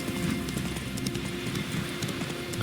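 Roach, the horse in The Witcher 3, gallops with a steady, rapid clip-clop of hooves that runs continuously and sits loud and close.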